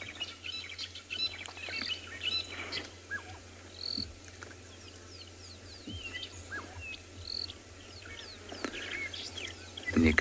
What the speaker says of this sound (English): you can hear all the birds calling